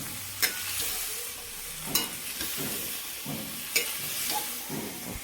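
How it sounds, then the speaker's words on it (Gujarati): Vegetables with large chillies and curry leaves being stirred in a tempered pan: a continuous close sizzle broken by a few sharp scraping knocks of the spoon against the pan, spaced a second or so apart. "હવે આને હલાવવું પડશે"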